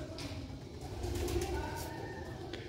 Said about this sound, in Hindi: माशाल्लाह सियालकोटी छत वाले कबूतर